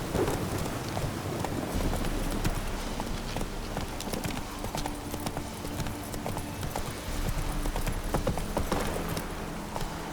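Roach, Geralt's horse in The Witcher 3, gallops in a quick, steady hoofbeat rhythm under rain and rumbling storm ambience.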